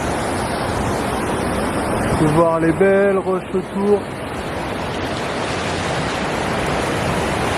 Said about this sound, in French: donc ça c'est une jolie cascade